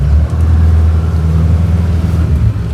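An old Mahindra Thar's engine runs loud and close off-road on rough terrain, a steady low rumble with slight rises in revs and no talk.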